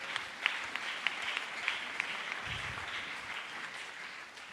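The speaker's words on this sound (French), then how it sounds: "Acclamons pour Jésus-Christ" A church congregation claps together in a steady, fairly distant applause that runs throughout, with a few sharper individual claps and a faint low murmur.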